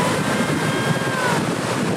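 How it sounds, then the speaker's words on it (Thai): Big ocean waves surge and wash on Nai Thon beach in Phuket, a steady roaring surf close by, mixed with wind buffeting the microphone throughout. "น้ำดูดคลื่นใหญ่มากเลยขึ้นมาแล้ว"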